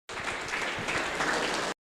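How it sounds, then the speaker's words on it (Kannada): A brief burst of audience applause greets contestants at a radio quiz competition, fairly soft and distant, steady clapping that starts and stops abruptly. "ಸ್ವರ ಸಿಂಚನ ತಂಡದ ಸ್ಪರ್ಧಿಗಳನ್ನ ಜೋರಾದ ಚಪ್ಪಾಳೆ ಮೂಲಕ ಸ್ವಾಗತಿಸೋಣ."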